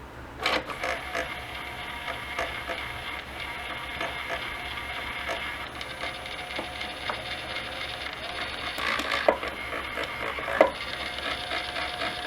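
A PC optical drive's eject mechanism grinds and rattles steadily in a struggling whir, with a few sharper clicks and knocks near the end, close and fairly quiet.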